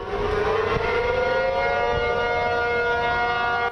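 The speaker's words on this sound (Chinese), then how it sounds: "后一摆警报声若响" A loud air raid siren wails continuously on a steady, slowly rising tone, with nothing else heard.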